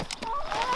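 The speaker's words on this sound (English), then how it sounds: "These chickens are going crazy because I just emptied this food bin out here" Chickens clucking close by in short, busy bursts, several birds at once, excited over food just emptied from a bin.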